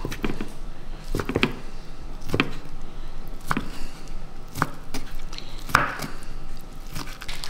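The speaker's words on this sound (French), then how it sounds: "Et tu vas le couper dans un petit morceau" Ingredient for a quiche lorraine being chopped into small pieces with a knife, a slow uneven series of crisp thuds on a board, close and clear with no talk.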